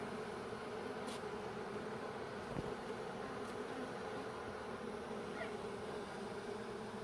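Honeybees drone in a steady, even buzz around a tree during a trap-out, a continuous hum with a few faint louder passes as individual bees fly near.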